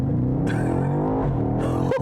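A 617 hp 2020 BMW X6 M Competition SUV pulls hard with a loud, steady engine roar from inside the cabin, its tone climbing through the gears with a brief shift break near the end.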